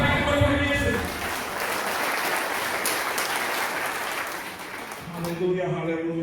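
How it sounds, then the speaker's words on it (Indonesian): A church congregation at a seminar claps in praise of Jesus, a broad sustained applause, while a voice carries on over it and music fades in near the end. "Tepuk tangan buat Tuhan Yesus."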